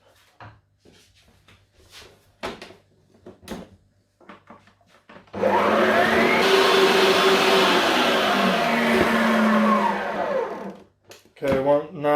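An electric mixer whirs steadily through chocolate fudge cake batter with cocoa powder, running loud and close for about five seconds after a stretch of quiet kitchen clatter.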